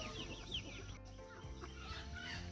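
Free-range chickens and chicks on a homestead poultry farm, several birds clucking and chattering close by in a continuous, busy flock sound without talk.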